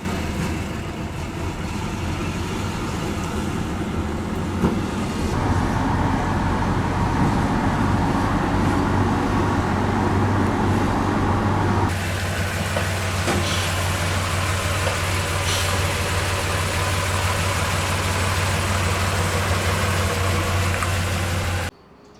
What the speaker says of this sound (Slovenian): Pod pokrovom motorja se skriva šestvaljnik, ki ima 170 konjskih moči.